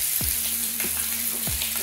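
Fish frying on a tawa in Mangalore style, a steady close sizzle of oil with a few soft scraping strokes of a spatula, no talking.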